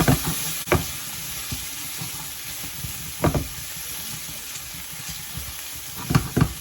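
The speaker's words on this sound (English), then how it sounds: "I like cooking it all in the pan first, to get all the aroma and the flavors all out." Garlic, onion, peppers and Scotch bonnet fry in a pan with a steady, close sizzle, broken by a few sharp scrapes and stirs of a utensil. No one speaks.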